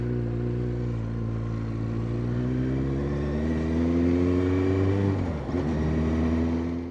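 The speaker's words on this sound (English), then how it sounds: "Listen to the engine." A steady engine drone with smooth harmonic tones that rise slightly as it revs, then dip briefly before settling back, close and continuous.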